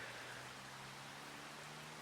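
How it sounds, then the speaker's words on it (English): Soft, steady rainfall from the Farming Simulator 25 game world forms a faint, even hiss with no distinct drops or breaks, low in level throughout. "And this rain is due to pass any time."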